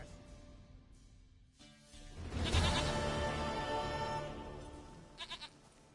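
A goat in the video game The Witcher 3 gives a loud, drawn-out bleat that swells and fades over a couple of seconds, followed by a few short quieter bleats.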